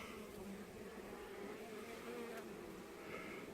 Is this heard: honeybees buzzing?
yes